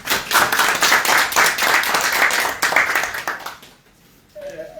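An audience claps loudly and steadily at a health-kit handover ceremony, a sustained burst of applause that fades out near the end before a voice begins.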